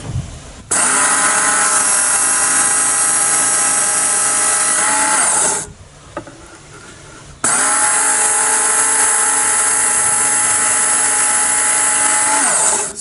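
An electric knife sharpener grinding a dull knife blade, two long steady high-pitched whirring passes, loud and close, separated by a short quieter pause.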